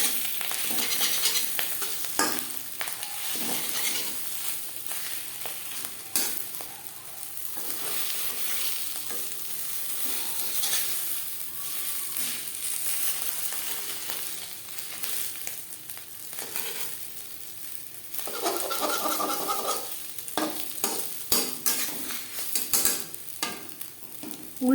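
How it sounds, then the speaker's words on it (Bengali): Fish roe frying in a pan for a Bengali fish egg curry, broken up and turned with a spatula: steady sizzling with repeated scraping stir strokes throughout, close and fairly loud, no talking. "উল্টে পাল্টে ভালো করে ভেজে নেব।"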